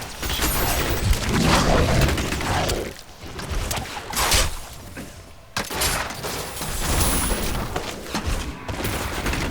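Demon Hunter shooting in Diablo 3, a dense, continuous barrage of rapid game gunfire with booming impacts and whooshes, loud and sustained with a brief lull midway.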